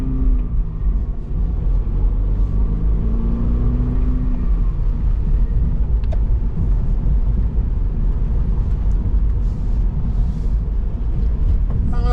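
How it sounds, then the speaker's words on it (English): A 2025 Subaru BRZ Premium sports car, assembled in Ota, Gunma, Japan, rolling along a road, giving a steady, loud low engine and road rumble from inside the cabin throughout, with a faint voice murmuring early on. "we're out on the road in this 25 BRZ"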